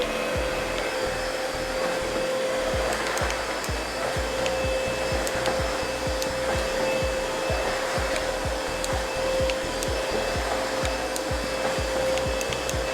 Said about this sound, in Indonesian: Sekarang aku akan cobain pakai vakum Bobo Deep 832 ini.